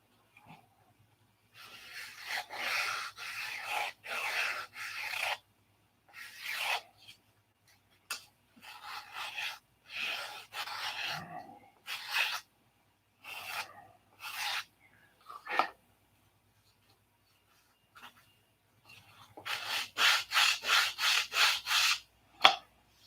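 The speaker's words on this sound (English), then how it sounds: "Now we're going to sand them." Bursts of hand sanding on small wooden bulkheads for a scale P-47 model, a rough rasping rub repeated in short strokes with pauses between sets, close and fairly loud with no talking.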